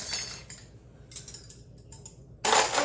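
Cutlery being unloaded from a dishwasher: metal knives, forks and spoons clink in a few light, separate contacts, close by, ending in a brighter, louder rattle of silverware.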